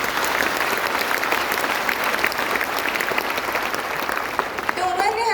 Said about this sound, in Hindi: इसके लिए बहुत बड़ी ताली होनी चाहिए।